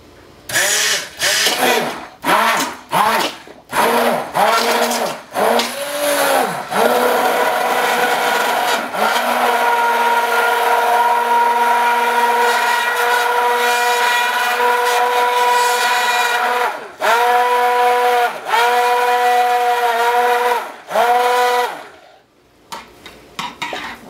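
A stick blender mixing cold process soap whirs in bursts, starting with quick on-off pulses, then running steadily for long stretches before stopping.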